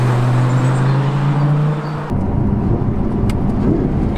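A sports car in sport mode with exhaust valves open, its engine droning steadily and then surging into a louder, rougher roar as it drops down through the gears, close and continuous with no talking.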